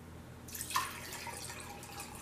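Water splashes and trickles into a jar for rooting sweet potato slips indoors, starting suddenly with a brief burst of pouring, then settling into a steady, fairly soft flow.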